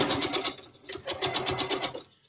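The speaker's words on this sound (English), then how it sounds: "now I'm going to sew it on the other side." Home sewing machine stitching fabric for a quilt block, a fast steady needle rattle in two bursts separated by a brief pause, close and loud with no talk.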